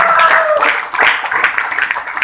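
Audience applause at a Life Viva Wellness company motivational meeting in Rewari: dense, steady clapping that fills the whole stretch, with a voice briefly audible over it at the start.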